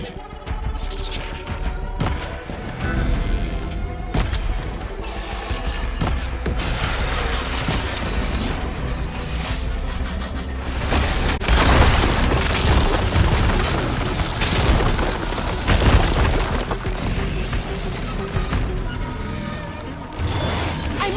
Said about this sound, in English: Hopefully the Denox will fire a few shots from that ballista.